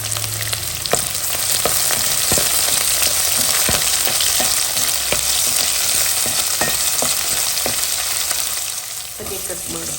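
Urad dal, mustard seeds, six cut green chillies, curry leaves and onion frying in a kadai, a steady loud sizzle with sharp scraping stirs and clinks of a spoon against the pan recurring throughout.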